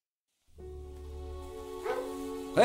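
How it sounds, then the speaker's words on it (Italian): A dog in the video game Lost: Via Domus gives a drawn-out bark or whine after a short silence, close and fairly loud, followed by a sharper yelp at the end. "Ho visto un cane qui intorno."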